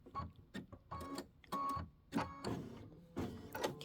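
A sewing machine stitches quilt pieces together for a pinwheel block, running in short bursts of rapid mechanical whirring separated by brief pauses, close and moderately loud.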